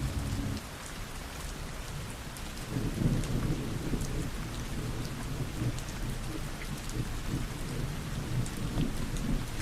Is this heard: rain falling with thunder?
yes